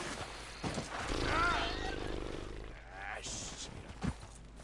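Horse hooves clip-clop at a steady gait in Red Dead Redemption 2, mid-loud and close, mixed with other game sounds and a murmur of voices.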